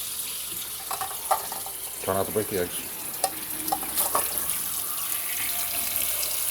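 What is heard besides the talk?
tap water filling a pot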